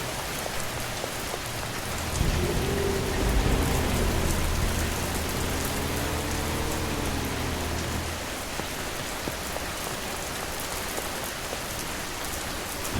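Rain falls steadily in the video game Schedule 1, a constant hiss of drops on surfaces with a low rumbling drone rising and fading underneath in the middle stretch.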